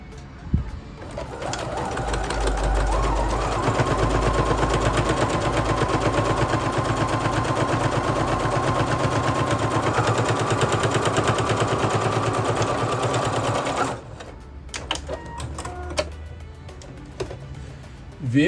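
Sewing machine stitching a 0.5 cm French seam, running in a fast continuous rattling drone for about twelve seconds before stopping, followed by a few faint handling clicks.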